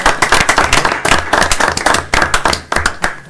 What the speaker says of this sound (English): let's just all give Mr. Slavny a round of applause for all of his service he has given to the board